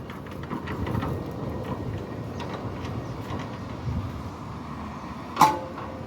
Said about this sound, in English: Gate is closing nicely on the gate guide bracket.